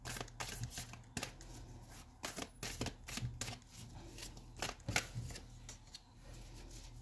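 Tarot cards shuffled by hand in quick bursts, dry papery flicks and slaps heard up close and fairly faint, repeating irregularly throughout.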